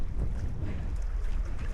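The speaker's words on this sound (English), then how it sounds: "I promise it was super windy." Strong gusts of wind, forecast around 20 knots, roar and buffet across a lake during a kayak outing, a dense low rumble of wind noise with no voices.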